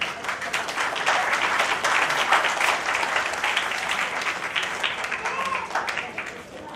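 An audience at a launch gathering for a poet's second collection applauds loudly and steadily for several seconds, with a few voices faintly underneath the clapping.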